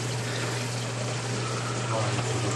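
Water drains steadily into a custom-built sump beneath a saltwater fish tank, a constant close rushing and trickling wash with a low pump hum underneath and no pauses.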